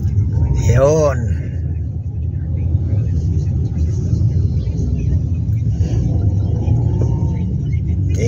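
Heavy road traffic with motorcycles passing alongside, a constant low engine rumble close by, with a rising horn-like tone near the start and a voice speaking over the din.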